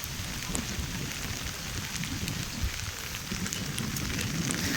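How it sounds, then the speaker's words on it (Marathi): Heavy steady rain pours down outdoors near sugarcane fields, a dense, continuous wash of hiss with scattered close drop patter and a low rumble beneath, no voices. "पाऊस चालू झाला आहे मित्रांनो."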